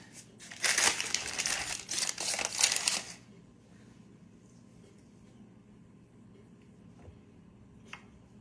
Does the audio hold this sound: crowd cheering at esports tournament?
no